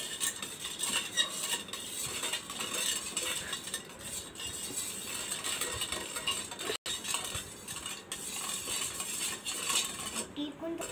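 A metal spoon stirs lemon juice in a pot, scraping and clinking steadily and close for about eleven seconds, with a brief break in the middle and a few sharper knocks.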